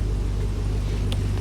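A V8 engine in a 1985 Land Rover Defender D90 resto-mod gives a steady, loud low rumble throughout, with one brief sharp click partway through.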